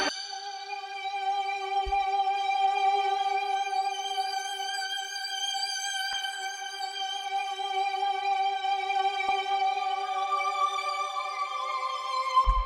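A simple synth lead played on a Rev 2 synthesizer in a dark hip-hop beat: sustained, bright, buzzy tones holding steady with a couple of note changes, loud and alone.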